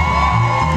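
Live R&B concert crowd screaming and cheering, a loud sustained roar of many voices with whoops rising from the audience throughout.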